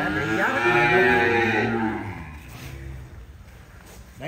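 Cattle for sale in Vietnam moo loudly: one long, close, drawn-out bellow that fades into quieter background noise.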